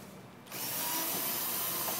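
A Bosch lithium-ion driver starts after a short quiet moment and whirs continuously while removing screws from the fiberglass cowl of an RV-7A aircraft.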